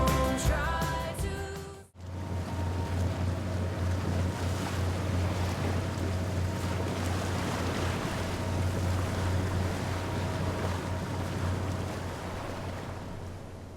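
A single-handed sailboat making about 7 knots across the open Mediterranean in good wind, with steady rushing waves and wind noise close by throughout, after a brief drop in sound near the start.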